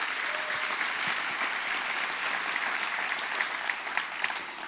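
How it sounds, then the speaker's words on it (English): An audience at a general session and awards event applauds, a dense, continuous patter of many hands clapping at moderate distance, steady throughout with a few louder claps near the end. "let's give them a round of applause"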